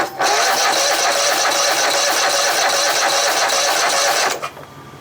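A Poulan Pro chainsaw with a suspected carburetor problem, fed a little extra gas, cranks in one loud, continuous buzzing burst of about four seconds up close without firing, then cuts off abruptly.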